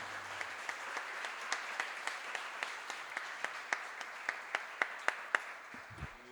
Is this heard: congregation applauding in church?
yes